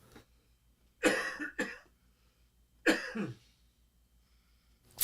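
Two separate coughs about two seconds apart, close and fairly loud, with quiet room tone between them.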